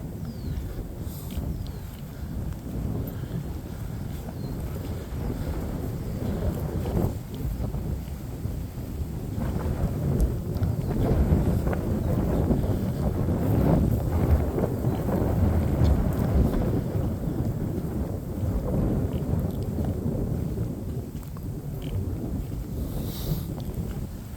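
Gusty wind buffeting the microphone on a lakeside afternoon hike at Glendalough State Park, a low, rumbling roar that swells in the middle and eases again, with no talk.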